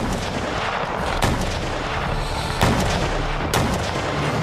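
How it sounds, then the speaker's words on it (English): Artillery shells bombarding a city wall in a Napoleonic-era siege, rendered as a dense continuous rumble of battle noise with several sharp blasts standing out, loud and without voices. "shattered by a bombardment of artillery shells at the city's wall"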